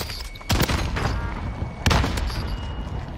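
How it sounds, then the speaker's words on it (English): Grenade explosions in the video game Call of Duty Vanguard Warzone: two heavy, loud booming blasts about a second and a half apart, over a busy bed of gunfire and battle noise. "Trying a grenade."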